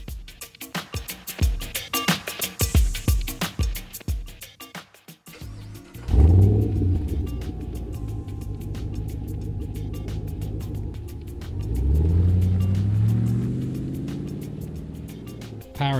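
An ECD custom Land Rover Defender D110 with a 6.2-litre Chevy L92 V8 and six-speed automatic starts after some clicking, then settles into a loud, deep idle that swells into a rev before easing back.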